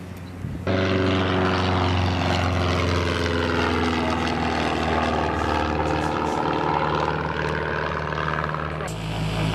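Outside at a fly-in, a Cessna 172 light aircraft's propeller engine starts and runs loud and close, a steady droning buzz with rising and falling harmonics before it cuts back abruptly near the end.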